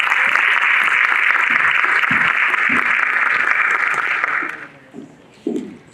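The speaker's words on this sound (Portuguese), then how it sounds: "Palmas para Aline Cardoso dos Santos Paravidini." An audience at a regional education, science and technology forum round table applauds a speaker: dense, sustained clapping for about four seconds, then a quick fade with a few stray claps and a brief murmur.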